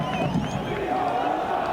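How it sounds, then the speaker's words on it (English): Football stadium crowd in Orlando roaring and cheering a defensive play, a dense sustained wash of voices with whoops rising above, heard with a commentator talking over it. "gets a big cheer from the crowd"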